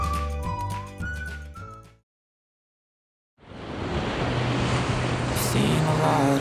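Sea waves wash onto a beach in Sorsogon, a steady broad rushing surf with some wind noise, loud and continuous. It follows a brief stretch of tonal sound and a short gap of silence.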